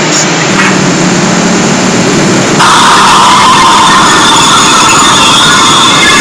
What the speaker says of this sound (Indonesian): Kemudian suara jalan raya tidak jauh beda dari suara knalpot